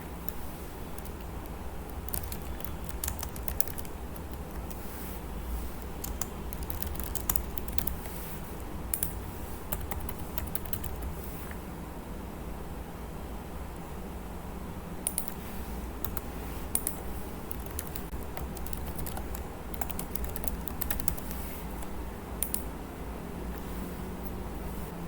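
Continuous typing on a computer keyboard while a sign-up form is filled in, with steady, close clicking keystrokes running throughout and no talking.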